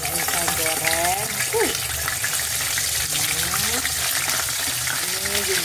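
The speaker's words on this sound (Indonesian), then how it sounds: "Karena ayamnya sudah saya ungkep. Nah, ini saya goreng." Marinated, pre-simmered chicken fries in a pan with a steady crackling sizzle throughout, while someone talks over it in intermittent, gliding speech.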